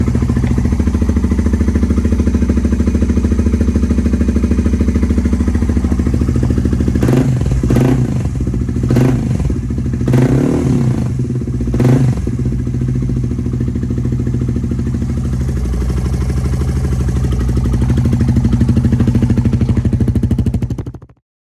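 A Suzuki VanVan RV125 motorcycle with a Black Widow aftermarket silencer idles loudly and steadily with a deep, throaty exhaust, punctuated by several sharp revs before it cuts off at the end.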